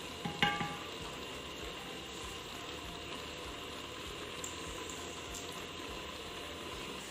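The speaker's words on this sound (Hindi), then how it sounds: "शुगर ऐड करने के बाद अब हम इसे 10 मिनट तक पका लेंगे ताकि चीनी का पानी भी अच्छे से खुश्क" Carrot halwa simmering with sugar in a pan, a steady soft bubbling sizzle with an occasional utensil clink near the start, low and even throughout.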